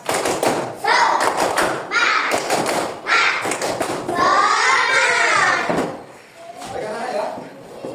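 A classroom of children performs a rhythmic clapping chant, groups of sharp claps in quick bursts alternating with loud chanted voices in a repeating pattern.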